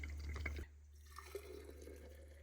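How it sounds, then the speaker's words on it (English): Warm water poured out of a mug, a brief splash followed by soft trickling and drips, heard close up in a quiet room with a steady low hum beneath. "dump this out."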